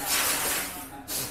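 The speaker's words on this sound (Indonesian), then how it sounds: "Coba tak semprot ya, coba ya. Kasih tekanan ya, pakai angin." Compressed air sprays from a nozzle onto an automatic scooter part under pressure in a workshop test, a steady broadband hiss lasting about a second, close and loud, with a brief cut and restart at the end.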